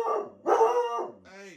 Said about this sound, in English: Hey, dog, shut your mouth.